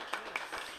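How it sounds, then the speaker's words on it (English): Light, distant clapping from a small audience at a live channeling session, a thin patter of a few hands that is soft and brief. "we'll give her a special round of applause for that beauty"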